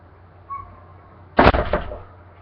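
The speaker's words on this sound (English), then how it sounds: "But all the little popping sound, fireworks." A single firework pops sharply outside at night, followed by a short crackling tail, heard distantly through a room after a faint earlier tone.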